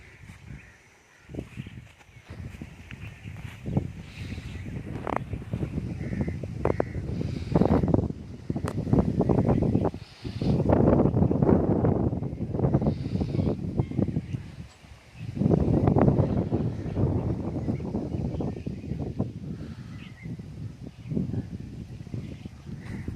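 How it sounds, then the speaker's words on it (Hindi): Wind gusts through leaves in a quiet village, rising in broad surges of rustling that swell and fade several times, with a few soft thumps and steps mixed in. "हवाओं और पत्तों का शोर है"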